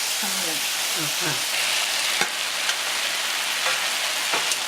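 Bulgogi japchae made with flat glass noodles sizzles steadily in a pan as carrots are stir-fried and the broth reduces, a loud continuous hiss broken by a few soft clinks of stirring.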